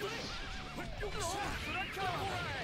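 Horse whinnying in the fighting game Jojo's Bizarre Adventure All Star Battle, rising and falling calls repeated across a busy game mix with speech-like chatter throughout.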